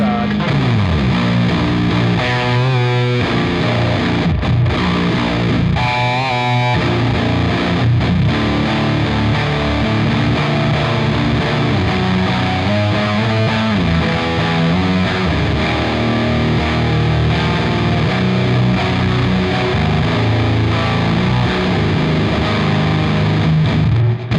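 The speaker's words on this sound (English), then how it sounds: "let's go with a definite masterly done fuzz tone here" A heavily distorted electric guitar with Corrigan HiFi XL pickups and thick fuzz tone plays riffs continuously, loud and saturated, with sustained buzzing chords.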